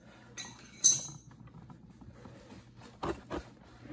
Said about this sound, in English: Got the wrench on the plug